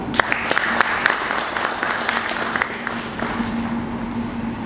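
Audience applause at a conference presentation, a steady crowd clapping with scattered sharper claps, moderately loud and continuous throughout.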